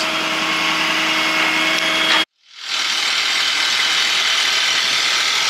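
Ratchet straps are cranked tight to hold a car, a turbo Lancer, down on a trailer. A steady, loud mechanical whirring runs on, cuts out for a moment, then resumes.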